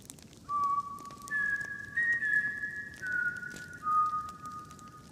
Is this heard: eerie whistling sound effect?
yes